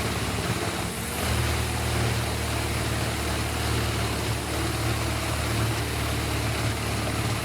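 Heavy wood chipper with a powerful engine shredding whole trees into chips: a loud, steady low engine drone with a continuous broadband grinding roar that stays dense and unbroken throughout.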